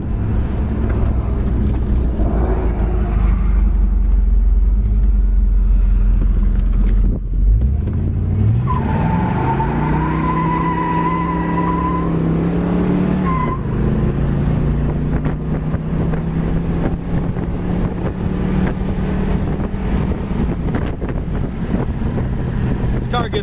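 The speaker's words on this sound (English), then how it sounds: "Car gets right up to speed," A blue 1969 Oldsmobile 442 convertible cruising down the road after accelerating through its gears, with a steady engine drone and rising pitch through a shift, plus heavy wind rush throughout; no talk heard.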